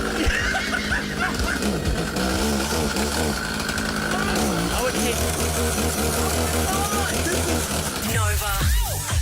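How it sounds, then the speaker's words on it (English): A chainsaw running, a loud, continuous buzzing engine drone with people talking and laughing over it throughout. "The nuclear option. Yes. The chainsaw."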